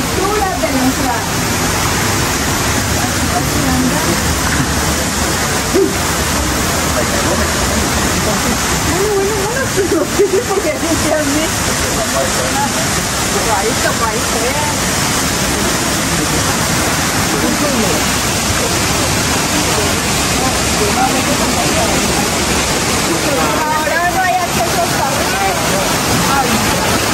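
A waterfall pours outside a bat cave, making a steady, dense rush of water that holds an even level throughout. A voice seems to come through faintly now and then.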